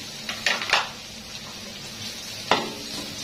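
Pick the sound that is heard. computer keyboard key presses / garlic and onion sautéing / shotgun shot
garlic and onion sautéing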